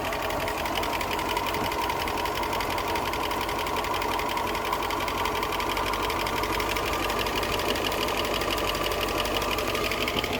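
A 1972 Range Rover A Suffix engine idles steadily at about 750 rpm, a continuous even mechanical rumble with a fast rhythmic ticking, close and fairly loud, with no talking throughout.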